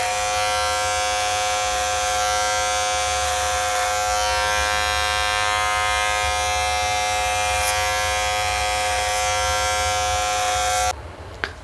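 An electric hair clipper buzzes steadily and loudly up close through an over-comb pass on a fade haircut, an unbroken tonal hum that cuts off abruptly near the end.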